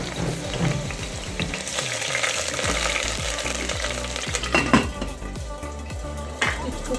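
Capsicum stir-fries in a hot pan for a beef stew, with a continuous crackling sizzle broken by repeated metallic scrapes and clanks of a spatula against the pan, close and moderately loud.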